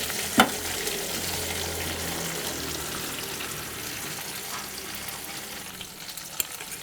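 Drumstick pieces sizzle steadily in hot oil for a Gujarati-style masala curry, with a continuous close frying hiss and a couple of sharp clinks from the pan.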